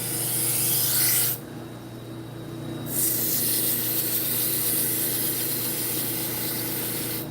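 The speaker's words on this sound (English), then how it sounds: "Just using the 1000 grit wheel, edge trailing." A knife blade grinds against a 1000 grit sharpening wheel, edge trailing, in a loud continuous rasp that briefly drops away and then resumes, with no voices.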